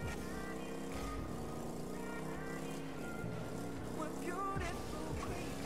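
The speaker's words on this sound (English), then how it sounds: "This car's got nice engine sound to it." A car engine in Rocket League roars steadily at moderate distance, revving up and down, with a low rumble and a faint voice under it.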